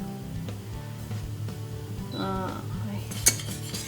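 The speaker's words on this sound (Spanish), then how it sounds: "y removemos para que no se formen grumos" A spoon stirs polenta in a pot over lowered heat, giving soft repeated scraping and knocking against the pot, with a brief ringing clink of metal near the end.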